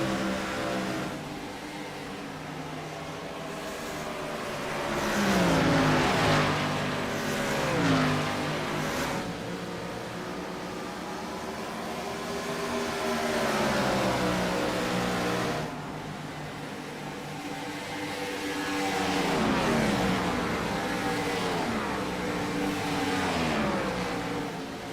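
Race cars circling Homestead in an IROC Challenge Series event, engines revving and sweeping up and down in pitch as they accelerate out of corners and pass, loud and continuous for the whole stretch.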